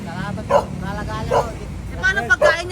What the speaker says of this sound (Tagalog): Ang dami niya pong aso.